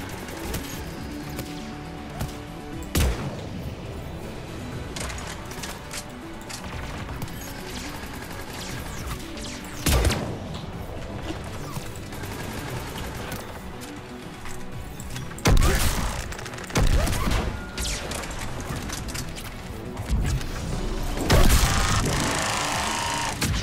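Gunfire in Mass Effect 3: a steady mechanical barrage of rapid shots runs throughout, broken by several loud sharp blasts and crashes that stand out above the din.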